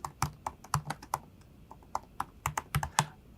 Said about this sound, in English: So if I want to run this, I can type brew install